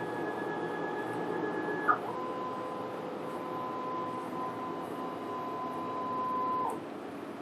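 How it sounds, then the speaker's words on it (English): A FocusInc Alpha-Jet 14 UV inkjet printer runs a vertical calibration print, a steady mechanical whir with sustained tonal whines that shift pitch partway through, close and continuous with no talk. "we print the vertical calibration again to check"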